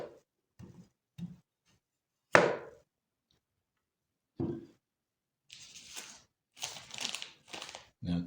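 A Chef's Path kitchen knife chops carrots on a cutting board, producing crisp close chops and ticks spaced irregularly, then a quicker run of slicing strokes toward the end.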